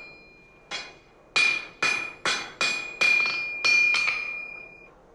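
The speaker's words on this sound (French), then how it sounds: "L'artisan entame l'extrémité d'une volute au marteau." A blacksmith hammers the end of a red-hot iron bar into a scroll: seven sharp ringing blows in an uneven rhythm, each leaving a bright metallic ring that decays, close and loud with no talk.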